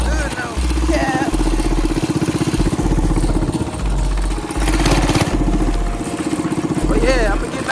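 Motorcycle engine fitted with a Mikuni carburetor runs steadily with a throbbing low rumble, loud and close, while someone talks over it throughout.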